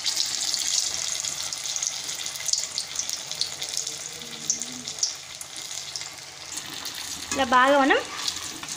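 Onion kachoris dropped into very hot oil for deep-frying: a loud, steady bubbling hiss runs close throughout, and a voice speaks briefly over it near the end.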